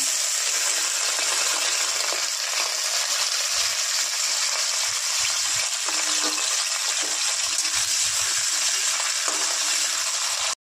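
Peanuts fry in olive oil in a wok, a loud, steady, close sizzle that hisses without pause for the whole stretch with no talk.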